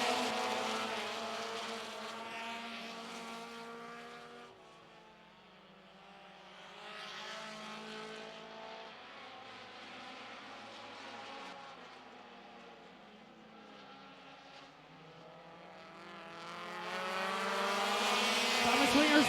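Pro compact race cars roar around the Mt. Lawn Speedway oval, engines swelling and fading as the pack passes, then building loud near the end, with a race announcer talking over the noise.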